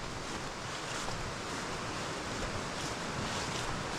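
Steady broadband rush of water pouring down the sluice gate ramp at Nafferton Castle and dropping about 18 inches at the bottom, a constant close roar with no voices.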